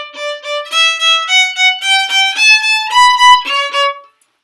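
Violin playing a short passage with each note bowed twice in quick repeated pairs, a clear, close solo line of stepwise pitches with no talking.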